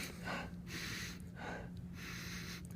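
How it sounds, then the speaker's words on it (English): Three deliberate sniffs at a vanilla-scented rubber watch strap, each a short breathy inhale spaced roughly a second apart, close and quiet. "This is that awkward part of the video where I sniff the vanilla"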